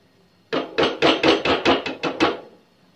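Tomato paste is stirred in a chicken karahi pan with about nine quick, rhythmic scraping strokes, close and distinct, each a short burst of similar loudness.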